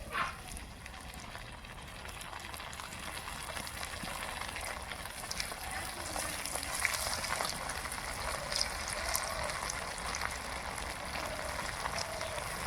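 Koftas made of rice flour mixed with gram flour frying in hot oil, a steady, even crackling sizzle heard close up and unbroken, with no talk.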